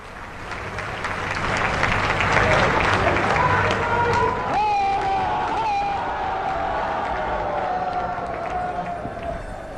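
Loud crowd noise at a political rally on a university ground in Varanasi, a dense wash of clapping and cheering that swells and holds steady, with whistle-like tones and voices shouting through it.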